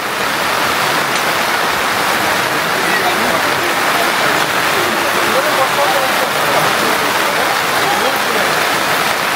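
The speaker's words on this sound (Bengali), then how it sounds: "বেশ জোরে বৃষ্টি পড়ছে দেখুন" Dense, loud, unbroken hiss of heavy monsoon rain pouring down steadily at night at a car camp by Sulaipat Dam, Odisha, close by, with no breaks throughout.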